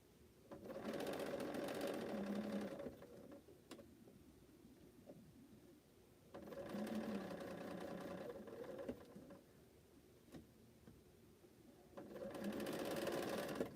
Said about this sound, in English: now I'm going to go and sew an accurate 1/4 inch seam